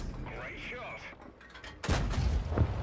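Someone talks, then a Cavalier medium tank's cannon in World of Tanks fires loudly twice, a heavy boom followed by a second shot less than a second later.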